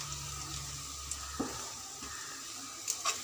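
Two green chillies sauté gently over a low flame with a soft, steady sizzle, a few light clicks and stirring taps breaking through.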